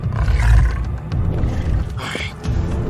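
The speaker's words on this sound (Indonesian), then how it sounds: "berita buruknya kita sedang diikuti kawanan singa kelaparan" A pack of hungry lions roars in the wild, deep rumbling growls swelling and fading close by amid wind-like noise, layered with a tense film-trailer soundtrack.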